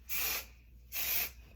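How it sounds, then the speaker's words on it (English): Hairspray hisses from an aerosol can in two short bursts about a second apart, close and moderately loud, with quiet pauses between. "So I just take the pieces and I spray them all."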